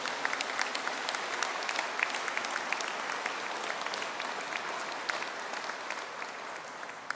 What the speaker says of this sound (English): could I have a collective round of applause for the Masters of Science in Software Design and Cybersecurity, please?